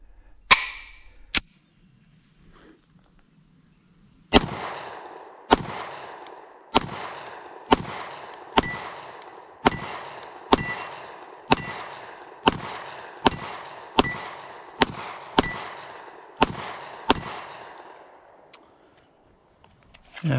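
Repeated gunshots from a 9mm H&K P30 V4 pistol, Swiss police surplus, fired in a steady string of about fifteen sharp, loud cracks spaced roughly a second apart, each with a ringing decay, after two isolated shots and a brief pause.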